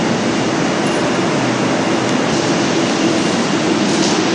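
A subway train roars past at Aragón underground station, a loud continuous rumble of wheels on track with a steady metallic hiss throughout.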